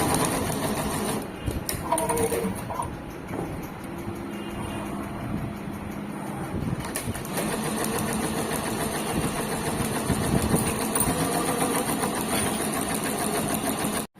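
Computer embroidery machine stitching silver zari thread on a garment front, a steady close mechanical whirring and rapid needle clatter running throughout with a few brief louder knocks.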